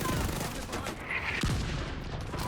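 Pistol gunfire from the Division 2 video game crackles in a quick burst of sharp shots against loud game noise, with brief whooshing effects mixed in.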